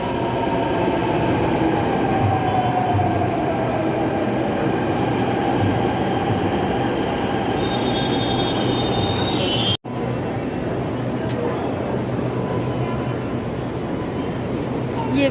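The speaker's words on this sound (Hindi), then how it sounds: "और इधर ये मेट्रो चल रही है।" A Delhi metro train runs past with a loud, continuous rumble and a high wheel squeal, and the sound drops out briefly partway through.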